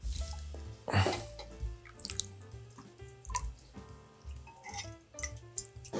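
Water trickles and drips steadily from spinach draining in a colander into a sink, with scattered soft clinks and splashes nearby.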